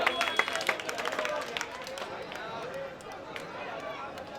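Warm applause and crowd clapping greet Abu Asim Azmi's arrival at a Jashn-e-Azadi mushaira in Furqania Chowk, Govandi. Dense, sustained clapping runs throughout, with some sharper claps near the start and crowd voices mixed in.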